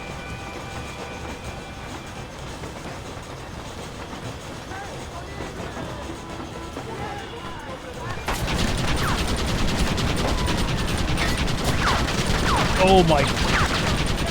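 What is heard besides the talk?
Gatling gun firing in the video game Red Dead Redemption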